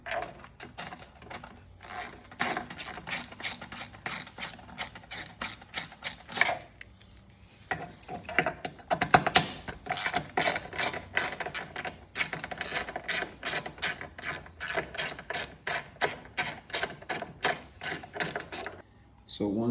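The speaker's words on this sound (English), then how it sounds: "remove the two bolts that are right here" A T25 or T27 driver removes license plate bracket bolts on a 2024 Harley Road Glide CVO ST, giving rapid rhythmic ratcheting clicks in bursts, close and fairly loud, interrupted by short pauses.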